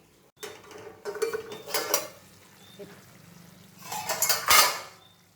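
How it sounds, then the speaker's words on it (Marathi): A metal lid set back onto a cooking pan of vegetables, light clinks and scrapes that build to a louder clatter of metal, with a voice in the background. "त्यावर आता परत झाकण ठेवायचं आहे"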